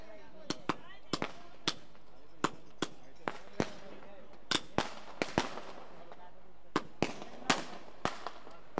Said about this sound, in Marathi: आणि पहा अगदी फटाक्याचा जल्लोष.